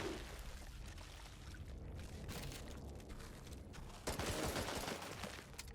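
Rapid gunfire from the video game Chernobylite 2: Exclusion Zone, a steady stream of dense shots that grows louder in a heavy burst toward the end, with no talking.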